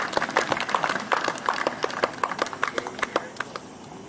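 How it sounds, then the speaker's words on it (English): A small crowd at the Diversity Cup 2020 final ceremony gives a round of applause for a guest of honor, with distinct, fairly sparse claps heard nearby that thin out toward the end. "Big round of applause for Mr. Jalaluddin."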